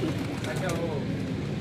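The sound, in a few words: red pigeons cooing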